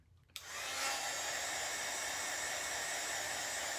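A hair dryer blows to dry wet paint on a small piece, switching on after a brief quiet moment and then running as a steady, loud, continuous whoosh with no talking.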